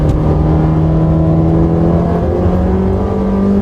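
A Ferrari engine on a race circuit drones loud and close, a sustained tone that shifts slightly in pitch as the throttle is eased on, with no voices over it.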